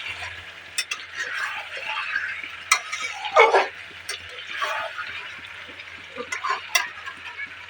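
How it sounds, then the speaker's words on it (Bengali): Marinated meat sautéed and stirred in hot oil in a pan: a soft sizzle under repeated spoon clatters and scrapes, with a louder cluster of knocks midway and a faint voice in the background. "তারপর এটাকে তেলের ওপর ছেড়ে কষা হচ্ছে।"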